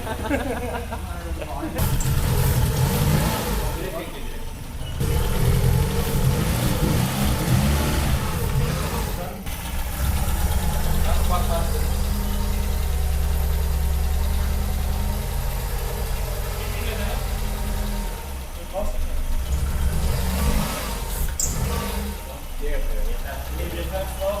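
A Renault Clio RSI with a swapped F4R engine runs at a steady idle, its continuous mid-pitched drone holding close by while people talk over it.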